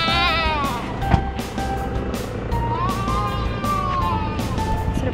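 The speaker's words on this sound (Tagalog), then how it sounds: "Pagbaba namin may mga kambing." Goats bleating on a beach on Mindoro island, several wavering cries in a row close by, mixed with vehicle and background noise.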